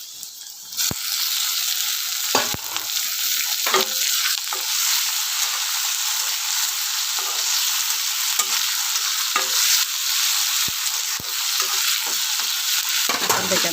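Tomatoes hit a pan of fried onions and are stirred in. A loud, constant hiss of sizzling runs throughout, punctuated by scattered sharp clicks and scrapes of a spoon against the pan, with no talking.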